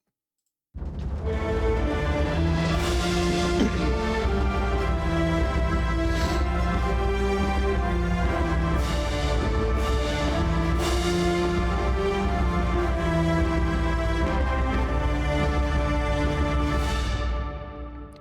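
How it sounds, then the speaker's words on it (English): A bright, full orchestral video game victory stinger swells in and holds for about seventeen seconds, layered and triumphant, with no voices. "victory stinger, you clear the area or you beat the boss"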